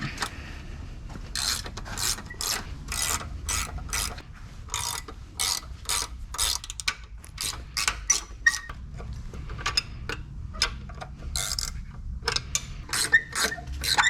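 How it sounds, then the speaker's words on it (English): Ratchet wrench clicking steadily as bolts are worked loose on a Yamaha 225 SHO outboard during an impeller replacement, a fast run of sharp ratcheting bursts with brief pauses, close and continuous over low workshop rumble. "we've got 6 bolts around the outside that we got to take off"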